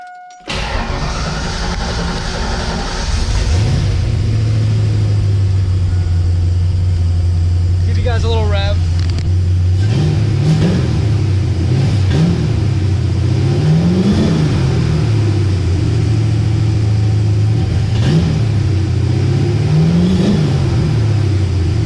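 A Ford Mustang Foxbody, back on the road after years off, cranks and starts, then settles into a loud, steady idle broken by four or five quick revs that rise and fall, with a voice speaking in the middle.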